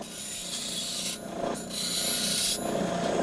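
A band saw fitted with an 80-grit abrasive blade grinds steel, making a close, continuous rasping scrape in uneven strokes that swell and briefly dip.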